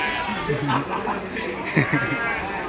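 Jawa Randu goats bleat at a livestock market in a couple of short, nearby calls, mixed with people talking close by.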